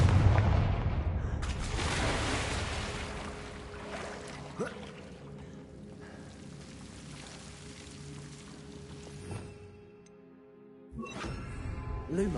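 A Confringo spell in Hogwarts Legacy bursts with a loud blast at the start, followed by rumbling, crackling debris and a few sharp impacts that fade to near silence before more noise returns.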